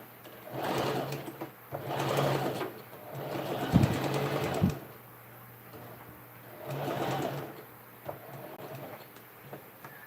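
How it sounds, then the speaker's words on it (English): A sewing machine stitches a bag seam at a half-inch allowance in several bursts of steady whirring, with short pauses between runs and a few sharper mechanical clacks midway. "I'm stitching at 1/2 inch."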